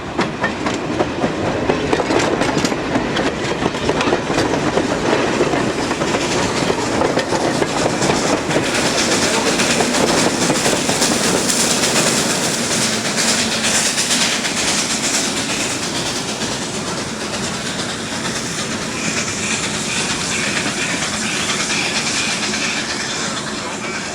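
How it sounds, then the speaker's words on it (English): Steam locomotive Number 3 pushing a passenger train out of Niles station on Niles Canyon Railway, a steady loud rumble of rolling cars with rhythmic clickety-clack of wheels over rail joints throughout. "Number 3 leaves Niles with the first passenger run of the day."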